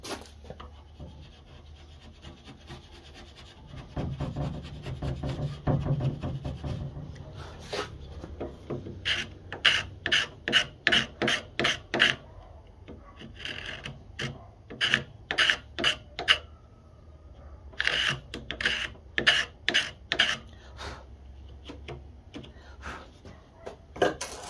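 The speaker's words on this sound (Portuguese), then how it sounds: "Então tem que raspar aqui no meio, ó." Wood is scraped in the middle of a door to fit a hinge, first a softer rubbing rasp, then many short sharp scraping strokes in quick bursts, close and fairly loud with pauses between runs.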